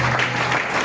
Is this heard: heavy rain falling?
no